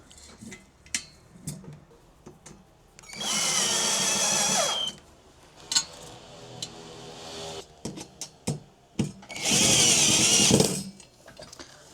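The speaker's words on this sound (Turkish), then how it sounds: "Uzun vidaları buraya takıyoruz." A power drill whirs in two loud bursts, separated by clicks and handling noises, as long screws are driven into a side table close by.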